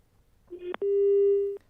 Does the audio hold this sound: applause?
no